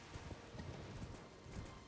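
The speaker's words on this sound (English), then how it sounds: "It's a horse, of course." Horse hooves clip-clopping at a steady trotting rhythm across the ground in the Elden Ring video game, close and fairly loud, with no talk over them.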